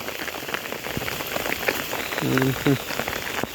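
Steady rain falls close by in a dense, continuous patter throughout, with a brief voice heard over it near the end.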